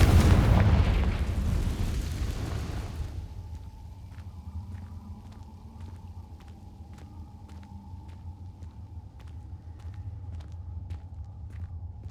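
A Confringo blasting spell explodes in the Hogwarts Legacy game, opening with a loud booming rumble that fades over about three seconds into a quieter background with a faint hum and soft repeated clicks.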